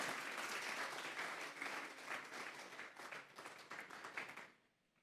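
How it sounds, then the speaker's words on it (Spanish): A church congregation breaks into strong applause for the Lord during a sermon, full and continuous for several seconds before cutting off abruptly into near silence. "Vamos a darle un fuerte aplauso pues al Señor."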